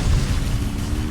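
In the Zenless Zone Zero video game, the ground shakes with a deep, continuous rumble that stays loud and heavy throughout, with no speech.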